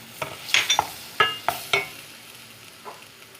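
Tomato paste is stirred into a pan of browned flour for Turkish ezogelin soup, a spoon scraping and clinking in several quick strokes over a soft, steady sizzle.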